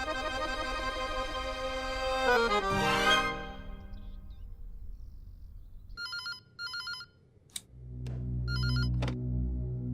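A telephone rings in a domestic TV drama scene, with music fading out before it and clear ring bursts repeating several times near and loud, no talk during the rings.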